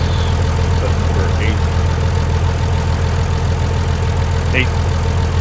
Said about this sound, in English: Nice little tractor.